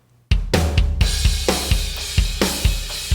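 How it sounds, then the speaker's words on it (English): EZdrummer, a virtual drum instrument, plays a loud, punchy rock groove straight out of the box: steady kick and snare hits under washing cymbals, with no one talking. "If you guys are curious what the virtual instrument is that I use, it's Easy Drummer."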